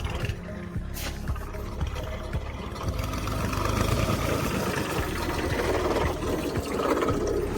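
A tractor engine runs steadily on a farm during tomato harvesting, a continuous low rumbling idle that holds throughout without talk.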